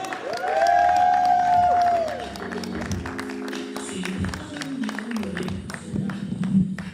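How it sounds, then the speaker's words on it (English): Comedy show audience clapping and cheering for a comedian, dense applause with whoops filling the room, loudest early then thinning as it continues. "keep that clapping going for the hilarious Mr."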